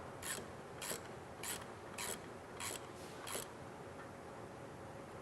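Tightening a clamp on a Bendix service brake chamber while clocking it, heard as a series of about seven regular, short rasping ratchet strokes at close range, with no talking.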